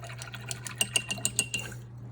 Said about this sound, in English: so let me rinse my brush out all the way.